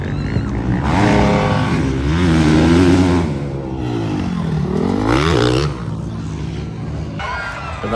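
Motocross motorcycles race on a dirt track during an open production Moto 2 event in Puerto Princesa City, with several engines loud and close, revving and rising and falling in pitch as they pass.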